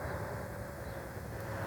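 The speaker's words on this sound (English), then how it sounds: "this drone is a lot louder than my baby ape. You can hear it now, and it's quite far away." Foxeer Reaper 4-inch long-range FPV drone flying far off, a steady distant whine and hum with a faint tonal edge that holds without a break across the short stretch.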